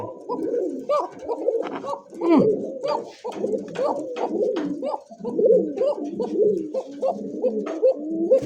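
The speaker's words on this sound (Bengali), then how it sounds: "এই দেখ সেই ডাকের একটা ককা কবুতর" A single male local pigeon coos close by, a steady run of soft, throaty, repeated coos rolling on with barely a pause, at a pigeon seller's stall.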